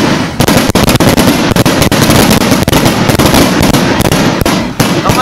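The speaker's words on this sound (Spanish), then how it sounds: "es impresionante la cantidad de cohetes que lanzan" Fireworks rockets are launched at the Soltepe town fair in a dense, loud, continuous barrage of cracks and bangs that runs without pause and with no voices.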